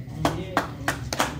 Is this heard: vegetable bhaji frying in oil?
no